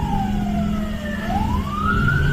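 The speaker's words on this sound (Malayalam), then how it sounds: "ഒരു ആംബുലൻസ് ഇത്രയും സൈറനും ഹോണൊക്കെ അടിച്ചിട്ട് ബേക്കിൽ ഇങ്ങനെ വരുമ്പോൾ" An ambulance rushing through road traffic wails its siren, the tone sliding down and then climbing again, loud and close over a steady engine rumble, with no one talking.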